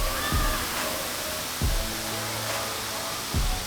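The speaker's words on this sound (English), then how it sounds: "The waterfall feature is really nice" Steady broadband roar of the waterfall feature on Dollywood's Big Bear Mountain roller coaster, a constant rushing wash with a few low thuds at intervals and faint tonal bits underneath, no talking.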